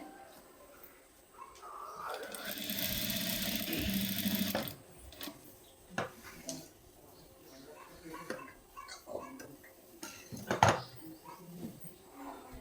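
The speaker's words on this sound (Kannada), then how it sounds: "ಎರಡು ಕಡೆ ಬಟ್ಟೆ ನೀಟಾಗಿ ಇಟ್ಕೊಂಡು ಯಾವುದೇ ಪೀಸ್ ಜಾಸ್ತಿ ಎಳಿದಿರಾ ಅಥವಾ ಲೂಸ್ ಬಿಡ್ದಿರಾ ನೋಡಿಕೊಂಡು ಈ ರೀತಿ ಸ್ಟಿಚ್ನ ಹಾಕ್ಕೋಬೇಕಾಗತ್ತೆ" Sewing machine stitching blouse fabric, a close run of rapid mechanical stitching lasting a couple of seconds, then scattered handling taps and fabric rustles with a few spoken words.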